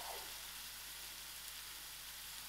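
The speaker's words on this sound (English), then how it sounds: "I fry these onions out. It is soft." Onions fry softly in a pan for a pilchard and potato curry, giving a faint, even sizzle and hiss that holds steady without speech.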